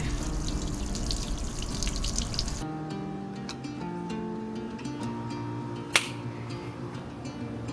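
Water runs from a newly installed water system in a Ford Transit 250 camper van, a steady splashing flow that stops abruptly, followed by scattered drips and a brief sharp clunk, with no voices.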